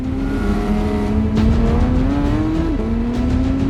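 A Porsche speeds past on a road, a loud continuous engine roar with a rising and shifting pitch as it accelerates by, close and sustained, with no voices.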